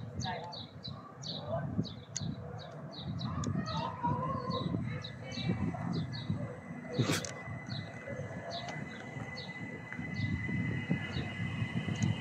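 A train arrives at Dover Priory station as a low, rumbling approach under a voice talking, with bird calls chirping repeatedly over it and a sharp brief clank midway.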